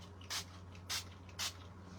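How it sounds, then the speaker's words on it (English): Three short, soft hisses of a facial mist booster spray during a Korean skincare routine, evenly spaced about half a second apart, close but quiet over a low steady hum. "just spray yourself with the booster again"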